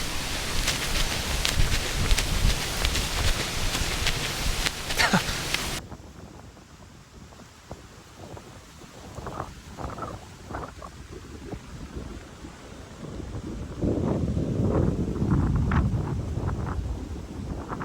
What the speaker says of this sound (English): I'm getting caught in the rain again